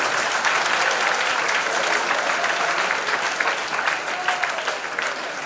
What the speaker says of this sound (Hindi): ताली बजाइए, ताली बजाते रहिए।